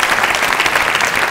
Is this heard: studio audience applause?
yes